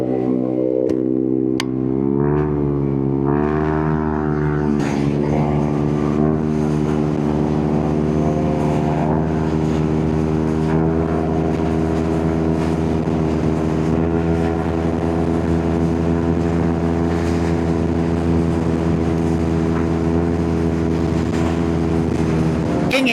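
Yamaha NMAX V2 220cc scooter riding on the road toward Ilocos Sur, a steady loud engine drone with constant wind rush running unbroken throughout.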